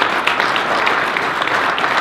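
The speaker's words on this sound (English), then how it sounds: "So let's give all of our teachers a round of applause." Steady applause for teachers from a crowd at a school board meeting, a dense continuous patter of many hands clapping at even loudness throughout.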